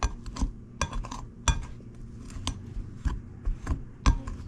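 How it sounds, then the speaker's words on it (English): A pastry cutter chops cold butter into flour in a bowl, giving a series of sharp, irregular thuds and metallic clinks, close and distinct, with no talk. "I have like a pastry cutter, and this lets me cut the butter in."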